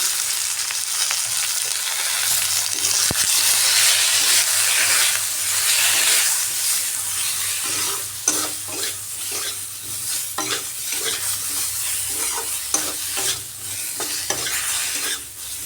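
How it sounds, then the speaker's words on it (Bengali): Fish sizzling and frying in hot oil with turmeric and cumin, stirred steadily so the loud hiss is broken by scraping stirs, with no talk. "একটু হালকাভাবে মশলার সাথে এটা কষিয়ে নিলাম।"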